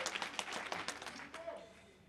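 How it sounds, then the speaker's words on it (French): An audience at a Malian diaspora gathering gives a short, faint round of clapping that quickly dies away, with a voice faintly heard beneath it. "Est-ce qu'on peut applaudir ce monsieur, s'il vous plaît?"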